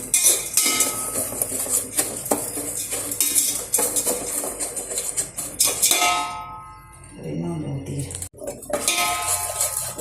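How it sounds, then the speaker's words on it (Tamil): White sugar melting and changing colour in a pan for jigarthanda, stirred steadily with metal utensils clinking and scraping against the pan, close and fairly loud, with busy irregular scrapes throughout. "ஒயிட் சுகர் நல்லா மெல்ட் ஆகிட்டு இருக்கு பாருங்கள். அதோட கலர் கொஞ்சம் கொஞ்சமாக சேஞ்ச் ஆகுது. இந்த டைமில் நல்லா கிளறி விட்டுட்டே இருங்க."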